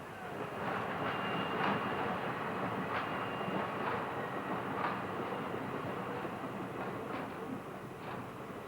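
Heavy passenger train of 25 coaches weighing 2,250 tons rolling along the rails, a steady faint rumble with soft rhythmic clicks from the wheels, heard from a distance with no voices.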